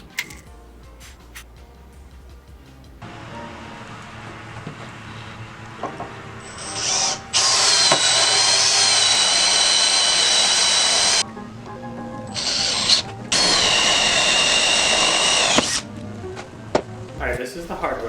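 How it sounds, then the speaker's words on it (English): An electric drill whines loudly in two long bursts, drilling holes into a shelf bracket, with shorter handling noises and clunks before and after. "I'm going to mark these stud locations onto the bracket so we can drill holes in it."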